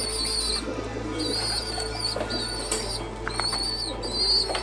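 A pet bird gives repeated soft cooing calls with short high chirps, several calls spaced irregularly over a steady low background hum, close and moderately loud.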